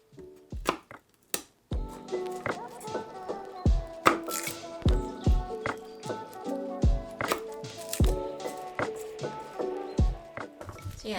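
A knife chops radish on a cutting board in a steady run of crisp, close knocks, some rapid and some spaced out, with no talking.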